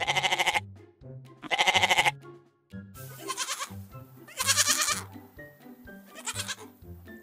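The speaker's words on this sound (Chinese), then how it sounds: "A goat was wearing her shoes." A goat bleats again and again, six or so loud, wavering cries in irregular succession, close by and alone.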